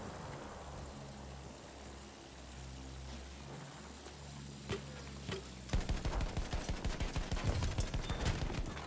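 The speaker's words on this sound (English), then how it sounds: "Anti-aircraft guns, right there!" Rapid anti-aircraft gunfire in Battlefield 1 bursts in after a low rumbling battle drone, a steady stream of loud, evenly spaced shots running through the final few seconds.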